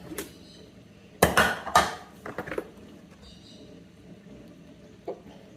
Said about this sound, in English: we're scraping down the sides and the bottom of the bowl